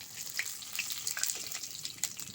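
Dry red chillies, bay leaves and whole cumin seeds sizzle and crackle in hot oil in a home kitchen, a soft, steady hiss with scattered pops, heard up close with no talk.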